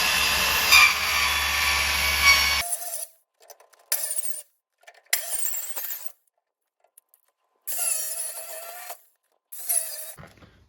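An angle grinder fitted with a sanding blade cuts the rocker panel of a 1971 Chevy C10. A loud, steady whine runs first, then gives way to short, separate grinding bursts with silent gaps between them.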